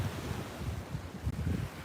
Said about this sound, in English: in front of the beautiful Atlantic Ocean, which is looking pretty calm with wimpy waves